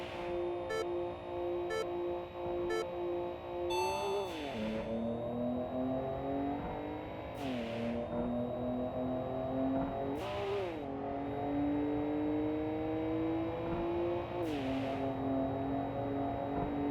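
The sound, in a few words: car engine revving in Import Tuner Challenge video game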